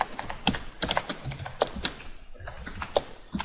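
Fingers type on a computer keyboard in quick, uneven bursts of sharp, close key clicks and taps, fairly quiet, with no voices.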